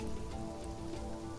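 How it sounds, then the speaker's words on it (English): Rain patters steadily on a surface in the survival game Sheltered, a soft continuous hiss of drops, faint and even throughout, with no voices. "I like it that the rain is happening."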